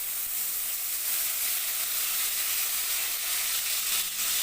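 Chilli, garlic and onion paste sizzles with tomatoes in a pan, a steady, even hiss of frying with faint stirring underneath, close and continuous without any talk.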